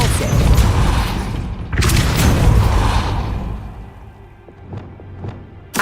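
A Depulso spell is cast in a wizarding video game, giving a loud whooshing blast and heavy rumble, a second surge partway through, then fading mechanical rumbling with a few sharp clanks.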